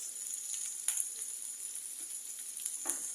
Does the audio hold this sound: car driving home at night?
no